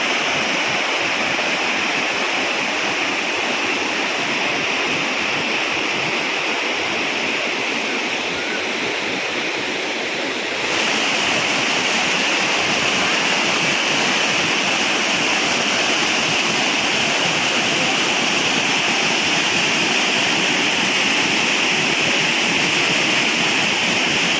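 Vadattupara waterfall in Kothamangalam, water pouring steadily over rocks with a dense, continuous broadband roar that stays loud and close throughout, without pauses or talk.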